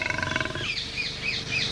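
A tiger roars in a staged 1980s television folk tale, with a deep, throaty roar that rises and then trails off. Bird-like chirps follow against a quiet backdrop, and no one speaks.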